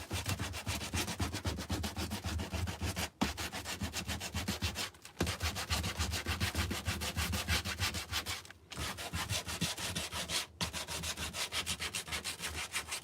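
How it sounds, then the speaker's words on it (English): Sandpaper is rubbed steadily back and forth along the edges of a painted canvas sign, making close, continuous scratchy strokes broken by a few brief pauses. "So we're just gonna sand the edges."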